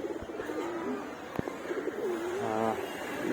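Pigeons in a loft coo in soft, rolling, throaty phrases against a low background rumble, with a couple of sharp knocks in between.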